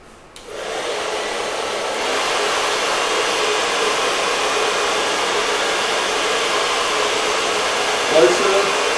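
A handheld hair dryer switches on and blows steadily during a reiki healing session, a constant airy whir that holds for several seconds with a brief shift in tone near the end.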